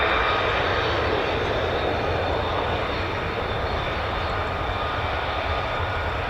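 A US Air Force fighter jet, an F-15 or F-35 at RAF Lakenheath, roars with a loud, steady broadband engine rumble that holds constant throughout, with no voices.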